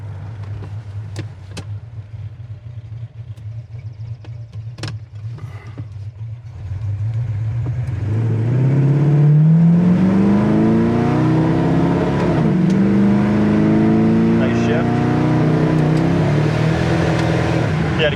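A 1968 Pontiac GTO V8 engine revs up and climbs steadily through the gears, pitch rising and dropping with each shift, loud and close.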